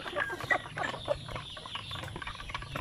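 Many chickens cluck at a backyard chicken farm, a busy flock of overlapping clucks and calls at close range with steady ambient noise underneath.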